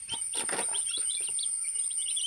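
Small chicken chicks cheep in a quick cluster of high, thin chirps close by outdoors, then fainter scattered peeps continue against a quiet backdrop with a faint high insect-like whine.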